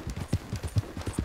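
Horse hooves in Red Dead Redemption 2, a quick, even clip-clop of galloping hoofbeats, close and steady, with no talk.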